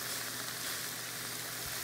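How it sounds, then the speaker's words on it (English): Kale sizzling steadily in a pan on high heat, a continuous close hiss of frying without pauses. "leave the heat on high and cook this kale until wilted"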